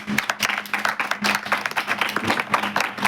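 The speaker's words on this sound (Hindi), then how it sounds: "एक बार मम्मी पापा के लिए ताली बजा दीजिए" An audience claps for the parents at a yoga gathering, a brief, dense burst of close applause lasting a few seconds with no speech over it.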